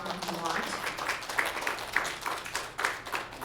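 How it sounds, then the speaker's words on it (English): A convention audience gives a round of applause at a Comic Con 2015 talk, dense overlapping claps forming a steady wash with a few louder bursts, moderately near. "have an enormous round of applause in whatever form you want"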